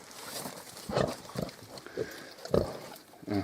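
Several short, throaty Hungarian Mangalica pig grunts come in irregular bursts, close by, over a low rustling background.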